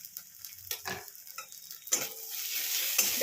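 Fish-head and cabbage curry being stirred in a pan, with a few soft scraping strokes of the spoon followed by a steady low sizzle that builds and holds. No one talks.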